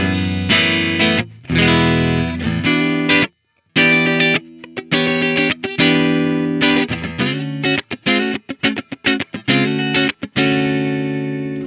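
An electric guitar plays short chords and riffs through a clean amp model on ToneX, with abrupt stops and gaps, bright and fairly loud, with reverb off and no voices.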